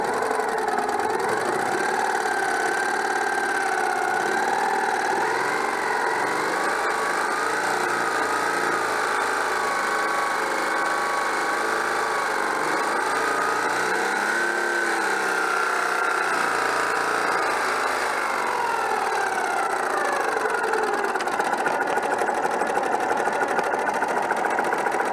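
A Citroën 2CV engine runs continuously during a condenser test, its buzzing note swelling and easing as it is revved, close and fairly loud throughout with no talk.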